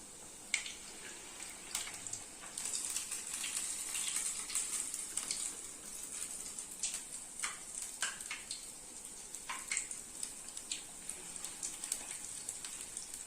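Vadas frying in hot palm oil in a home kitchen, giving a steady bubbling sizzle with scattered sharp crackles and pops, fairly close and continuous throughout.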